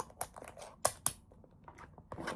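A Nahvalur Eclipse fountain pen's piston mechanism clicks a few times after being tightened, with two sharp close clicks among softer handling noises in a quiet room.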